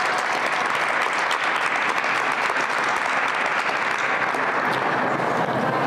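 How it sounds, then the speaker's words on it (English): Graduation audience at a job-training cohort ceremony applauding, a dense, continuous wash of many hands clapping at an even, loud level throughout. "give yourself a round of applause for completing this"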